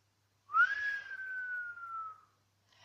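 A witch's whistle in a Catalan children's tale about the mulberry witch: one clear, close whistled note that slides up quickly then holds and slowly falls for about two seconds, alone in quiet.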